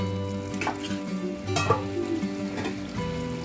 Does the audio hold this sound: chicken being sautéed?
yes